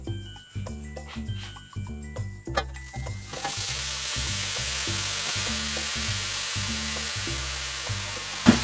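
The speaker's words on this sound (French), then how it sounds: "Alors ensuite on va pouvoir y verser les poireaux." Frozen leeks drop into hot oil and fry with a loud, steady broadband sizzle after an initial clatter, with stirring scrapes over background music.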